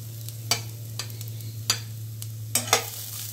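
Vegetables fry in a pan with a low steady sizzle and hum beneath, punctuated by several sharp scraping stirs at irregular intervals.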